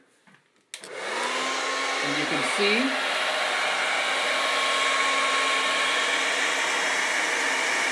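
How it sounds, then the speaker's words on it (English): A handheld hair dryer blowing hot air kicks on after a brief quiet moment and keeps up a loud, steady whooshing roar, with a short spoken phrase over it. "here is a hairdryer."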